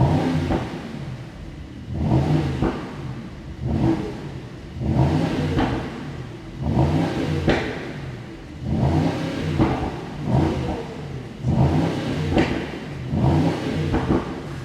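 The V8 of a 2022 Mercedes SL55 AMG revs again and again against its rev limiter, about seven loud rhythmic surges each falling back, close by with no talking.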